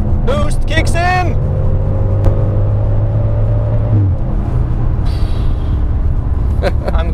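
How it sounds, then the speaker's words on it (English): A tuned Audi RS6 V10 with turbo boost, aimed at 780 hp, accelerates hard, with a loud close engine roar and rising tones heard from inside the car, while voices call out over it. "Boost kicks in!"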